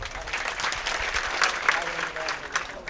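Crowd at a temple donation announcement for Bhagwan Baba's temple claps loudly: dense, steady applause filling the whole stretch, with voices mixed in underneath.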